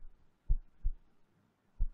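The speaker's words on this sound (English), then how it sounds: "The heart's beating in my head." Three heavy, low heartbeat thumps, the first two close together and the third after a pause, isolated and dull against near silence with no talking.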